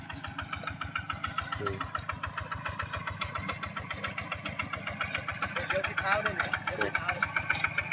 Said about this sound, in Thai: อันนี้ช่างกำลัง ทดลองขับให้ดูนะครับว่า ในการใช้งานจริงนั้น มันจะเป็นยังไงนะครับ